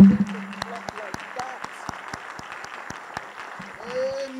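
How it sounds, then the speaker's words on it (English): A church congregation claps in thanksgiving at a sermon, sharp individual claps spread irregularly across the room, moderately loud, with a preaching voice and a rising musical tone near the end. "That's a thanksgiving clap."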